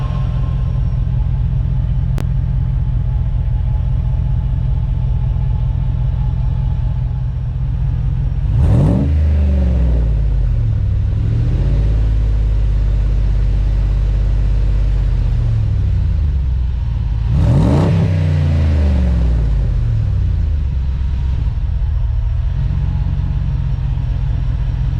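A Hemi engine fitted with a Borla Pro XS muffler idles with a deep, steady exhaust rumble, then is revved twice, each time rising sharply and falling back to idle.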